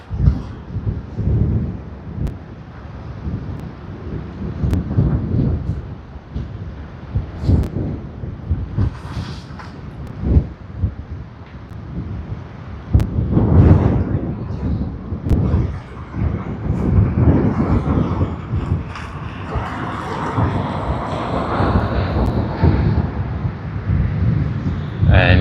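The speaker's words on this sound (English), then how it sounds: "And here's another takeoff." A jet airliner takes off at Sydney Airport, its engine roar building from a distant rumble into a loud, sustained broadband rush that holds steady to the end, with wind buffeting the microphone and people chatting nearby.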